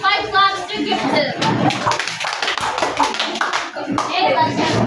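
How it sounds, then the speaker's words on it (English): A classroom group claps together for a classmate, a dense burst of sharp hand claps with children's voices mixed in. "Let's give 5 claps to Gibson."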